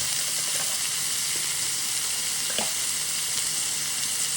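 Finely chopped tomatoes fry in oil with a little rock salt, giving a steady, close sizzle and bubbling crackle with one soft stirring scrape midway and no voices.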